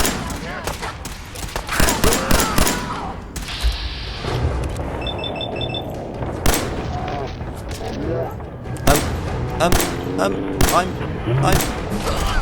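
Gunfire in Fallout 4 inside the Parsons State Insane Asylum: loud, close bursts of shots and booming impacts spread across the whole stretch, with someone talking between and over them.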